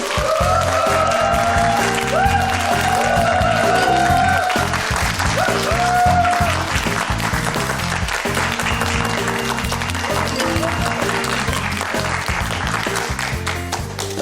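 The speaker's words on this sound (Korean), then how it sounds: "여러분 큰 박수로 모시겠습니다" Sustained applause from a studio audience welcoming a novelist onto a lecture-show stage, dense and steady throughout with music playing underneath.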